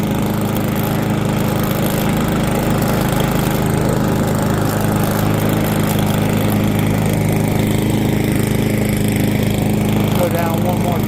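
A Yard Machines push mower engine runs loud and close, a continuous steady drone with no break from start to finish.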